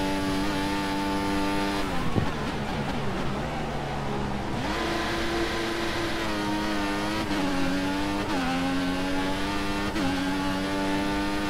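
Formula 1 race car in F1 2014 at the Hungarian Grand Prix, engine revving hard and rising through repeated upshifts, loud and close with a brief lift and tyre noise.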